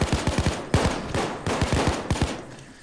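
Loud, fast volleys of gunshots from a semi-auto sniper rifle in Payday 2, sharp cracks arriving in quick clusters over a continuous roar of gunfire.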